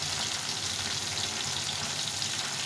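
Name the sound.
fish frying with salt and turmeric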